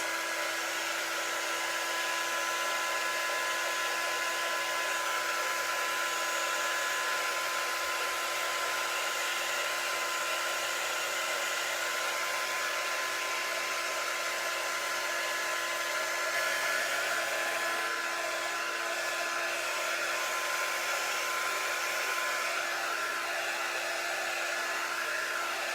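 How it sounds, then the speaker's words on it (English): A hair dryer used as a quick-dry tool on a freshly finished wooden surface blows with a steady, loud, continuous whine and rush of air for the whole stretch, with no voices over it. "They call this our quick dry tool"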